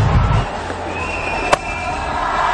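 Crowd noise at a cricket stadium during an IPL match, a steady broad roar of cheering held at an even level throughout, with one sharp brief crack near the middle.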